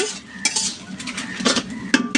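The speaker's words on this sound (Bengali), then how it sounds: "এখানে বসাইছি কড়াইতে লাল শাক দেখা হচ্ছে লাল শাক রান্না করতেছি" Red amaranth greens cooking in a wok, with a spoon scraping and stirring in several short, close clinks and scrapes over a soft background.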